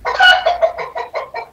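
A chicken clucks close by in a quick series of short, throaty bursts, loud and clear with no talking.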